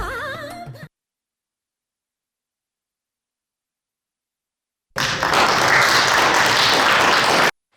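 Audience applause breaks out after a classical Telugu devotional dance performance at a Sankranti celebration, a loud, dense burst of clapping lasting a few seconds after a brief musical ending and a pause.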